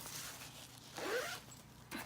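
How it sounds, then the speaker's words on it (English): Zip along the top of a small travel bag being pulled open or shut, one soft, close rasping slide lasting about a second with a short tail of rustling after it, quiet and with no talk. "So it does come with a zip right here at the top."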